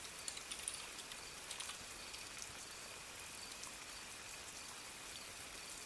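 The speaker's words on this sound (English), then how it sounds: "these are like heavy raindrops, but it's not torrential" Heavy raindrops fall steadily in a game setting, moderate rather than torrential, a dense, even patter with a few sharper drips early on and no voices.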